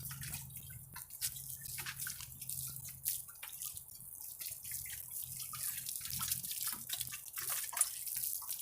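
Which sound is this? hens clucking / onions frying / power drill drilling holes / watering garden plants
watering garden plants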